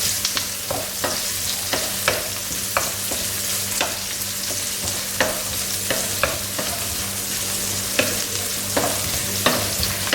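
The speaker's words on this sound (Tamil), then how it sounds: "வெங்காயத்தை கொஞ்சம் பொன்னிறமாக வதக்கிக்கலாம்." Onions sizzle and fry on an old tawa while a spatula stirs them, scraping in sharp, irregular strokes over a steady close crackle.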